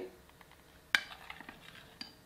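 A spoon stirring a thin batter of flour and milk in a bowl, with a sharp clink against the side and soft scraping, close and fairly quiet.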